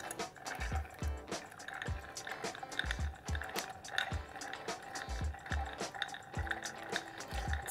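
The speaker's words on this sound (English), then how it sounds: "Giving it a good stir." A Negroni being stirred with ice in a glass, with repeated soft clinks and liquid swirls in a steady rhythm, close and moderately quiet, with no talking.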